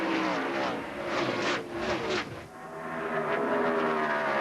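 NASCAR race cars at the 2002 Pop Secret Microwave Popcorn 400 roar past in a steady, distant broadcast wash, with a few brief louder surges.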